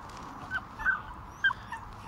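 Puppy giving a few short, high whimpers and yips, close and alone, in brief uneven bursts.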